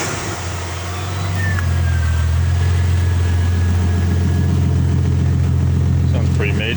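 A Ford AU sedan fitted with a new catback exhaust starts and settles into a loud, deep idle, a steady rumble close by after a brief crank.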